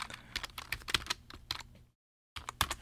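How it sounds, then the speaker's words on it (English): Fingers typing a web address into a search field on a computer keyboard, with close, quick bursts of clicky keystrokes, a brief silent gap, then more keys tapped. "we type in"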